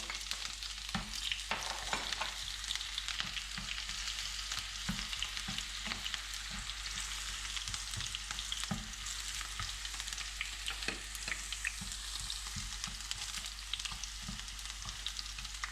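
Dried chilies and scallions frying in oil in a wok for kung pao chicken, a steady close sizzle with scattered pops and spatula scrapes running throughout, no talking.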